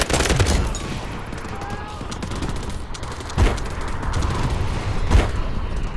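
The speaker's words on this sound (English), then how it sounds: "Artillery barrage incoming." Artillery barrage and gunfire in the video game Delta Force: a dense, continuous rumble of shots with two sharp, heavy blasts standing out partway through.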